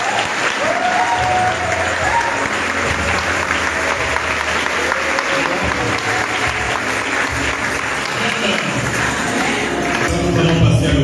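A church congregation at a Catholic Charismatic Renewal gathering breaks into loud, sustained applause, a dense wash of many hands clapping that fills the room steadily throughout.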